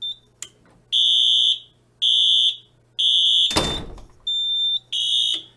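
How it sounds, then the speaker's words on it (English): Simplex 4010 fire alarm panel running a fire drill, its alarm horn sounding in loud, evenly spaced pulses roughly once a second, broken once by a burst of clattering noise, with no talk. "hitting manual evac, we'll turn it on, we'll start a fire drill"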